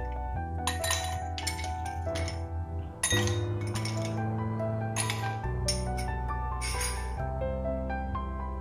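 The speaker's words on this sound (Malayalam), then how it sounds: "ഇനി നമുക്ക് ഗ്ലാസ്സിലേക്ക് ഐസ് ക്യൂബ്സ് ഇട്ട് കൊടുക്കാം." Ice cubes dropped into a glass for a homemade lemon juice drink make several bright, separate clinks and clatters over a steady music bed.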